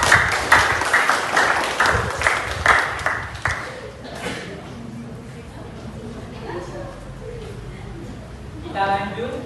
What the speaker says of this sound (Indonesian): Kita beri aplaus untuk kawan kita.